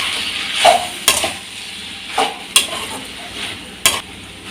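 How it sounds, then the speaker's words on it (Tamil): Potatoes and green peas fry in a pan while a utensil stirs them, giving a steady close sizzle broken by several sharp scraping strokes spaced about a second apart. "இப்போ உருளைக்கிழங்கு சேர்த்துக்கலாம். இது சேர்த்து நல்லா கொஞ்சம் மிக்ஸ் பண்ணி விட்டுக்கலாம்."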